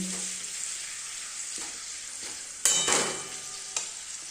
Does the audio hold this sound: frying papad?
yes